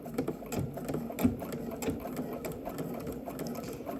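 A hand-cranked sewing machine runs a straight stitch through swimsuit fabric, giving a steady, close mechanical whir and clatter for about four seconds with no talking.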